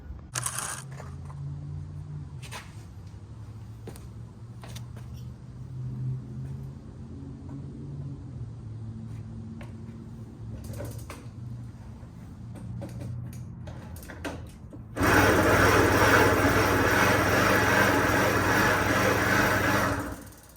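A neglected Puch ZA50 moped, unstarted for years, first gives quiet ticking and clicking attempts, then its small two-stroke engine catches and runs loudly and steadily close by.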